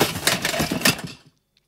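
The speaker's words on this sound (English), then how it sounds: "where we have this original metal assemble Foley sound." Metal assembly Foley effect: a close, dry run of clattering metallic clicks and clanks with two louder hits, then quickly fading to silence with one faint tick at the end.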